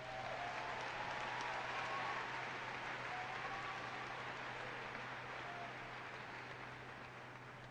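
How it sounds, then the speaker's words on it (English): An audience applauds a student scholar at a school ceremony, sustained clapping from a crowd that holds steady and then slowly fades, with no talk over it. "Yeah, that deserves some applause for sure."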